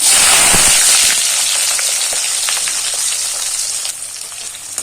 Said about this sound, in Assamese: এতিয়া মই ইয়াতে কাটি ৰখা পিয়াজখিনি দি দিম।